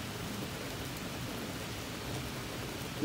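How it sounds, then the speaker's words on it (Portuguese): A steady, dense hiss of heavy rain pouring down, constant and enveloping with no pauses. "o toró que tá caindo aí"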